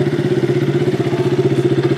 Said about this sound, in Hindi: पहले हमारी बाइक पार्किंग में लगा देते हैं